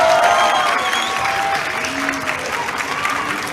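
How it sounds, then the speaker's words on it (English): A graduation ceremony crowd gives a big round of applause after certificate handovers, dense steady clapping that is loud at first and then eases slightly, with a faint voice underneath. "Big round of applause."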